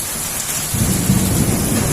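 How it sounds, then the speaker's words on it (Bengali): Thunder rumbling through heavy rain in a windy storm in Halishahar, Chattogram, a low rolling boom rising over constant loud rainfall, with no voices. "দেখ কি বাতাস, ঠাডা পড়ছে অনেক ভাই।"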